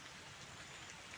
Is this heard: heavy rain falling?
yes